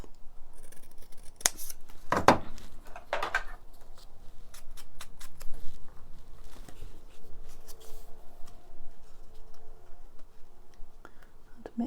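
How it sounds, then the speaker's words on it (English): Scissors snip through a paper ticket for a junk journal page, a few sharp close cuts early on followed by quieter paper handling and faint rustles, with no talking. "Let's cut this one in half."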